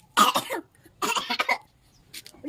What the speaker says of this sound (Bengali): কাশি হচ্ছে তোমার? তা কিরকম কাশি হচ্ছে তোমার?